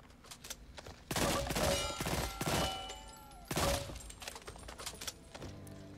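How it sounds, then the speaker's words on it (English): Burst fire from an M16 rifle in the shooter game Back 4 Blood: two loud, sharp bursts of rapid shots with ringing echoes, separated by quieter gaps and softer mechanical clicks. "the M16 in this game is burst, not full auto"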